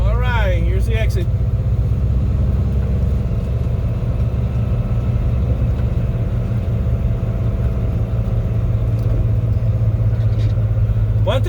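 A truck engine pulling a heavy load on the highway drones steadily and loudly at low pitch throughout, with road rumble, while someone talks over it.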